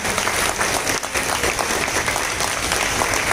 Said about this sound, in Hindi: मैं आप सभी से निवेदन करूंगा कि उनको जोरदार तालियों से स्वागत करने का करते हैं।